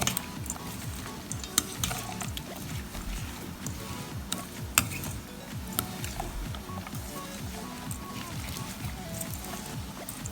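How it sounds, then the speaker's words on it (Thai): Repeated scraping and clattering of a utensil mixing Thai mango salad with dressing in a bowl, steady rhythm with occasional sharper knocks, no talking. "คนให้น้ำยำเข้า กับมะม่วงนะคะ คลุกเคล้าให้เข้า"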